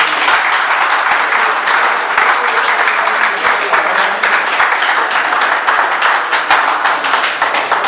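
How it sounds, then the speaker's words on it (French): A large indoor audience claps continuously in loud, dense applause that keeps a steady level from start to finish, close and with no pauses. "Je voudrais une sorte d'applaudissement."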